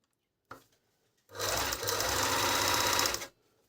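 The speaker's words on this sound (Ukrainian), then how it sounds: "Бюджетний верлочок." A Yamata FN2 overlock machine sews a four-thread seam on gabardine. A short click comes first, then a loud, steady whirring run lasts about two seconds and stops abruptly, with no talking.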